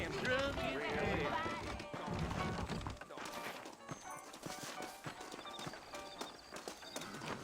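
Horse hooves pounding in a quick, uneven rhythm with an occasional whinny in Red Dead Redemption, following a burst of voices and general commotion at the start.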